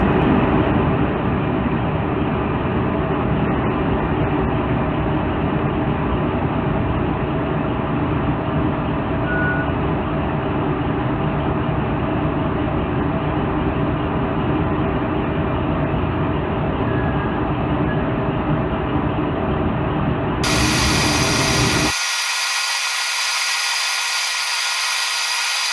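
A milling cutter machines an aluminum heat sink with cutting fluid, giving a steady, loud, continuous grinding whir that holds unbroken for about twenty seconds before cutting off abruptly.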